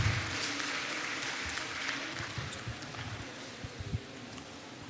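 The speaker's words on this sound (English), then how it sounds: "A round of applause for her." Faint, distant applause from the audience at a Nigerian Bar Association Women Forum conference session forms a soft, steady patter of clapping that tapers slightly toward the end, with no clear voices.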